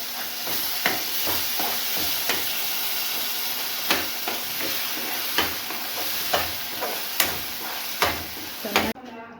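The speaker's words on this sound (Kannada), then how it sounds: "ನೋಡಿ, ಚೆನ್ನಾಗಿ ಫ್ರೈ ಆಗ್ತಾ ಇದೆ, ಎಣ್ಣೆ ಬಿಟ್ಕೊತಾ ಇದೆ" Ground masala paste frying in oil in a pan, a loud continuous sizzle broken by regular sharp scrapes and taps of a spoon stirring through it.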